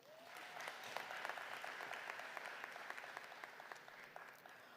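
Graduates at a winter commencement ceremony applaud themselves: a broad, continuous wash of many hands clapping in a large hall, steady and fairly distant, lasting several seconds with little else over it.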